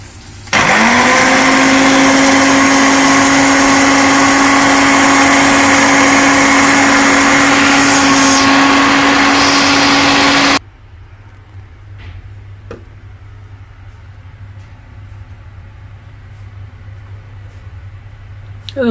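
A mixer grinder pulverising dry poppy seeds, a loud close high-pitched whirring that runs steadily for about ten seconds, then cuts off abruptly, leaving quiet room noise with faint clicks.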